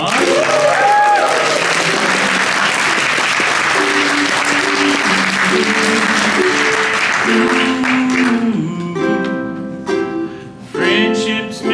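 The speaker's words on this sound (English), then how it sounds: "give them a round of applause" Audience applause fills a live music stage show at a Swift developer conference, a dense, loud clatter of clapping heard alongside sustained musical tones that thin out toward the end.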